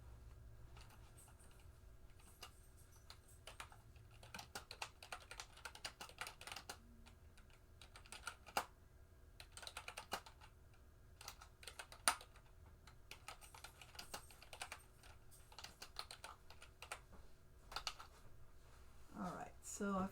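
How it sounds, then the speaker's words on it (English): Steady bursts of typing on a computer keyboard while writing in SmartEdit Writer, close and fairly quiet, with irregular clusters of keystrokes and brief pauses over a faint background hum. "So if I go up to this scene and I just start typing"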